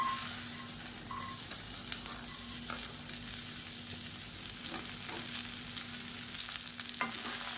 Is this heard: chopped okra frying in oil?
yes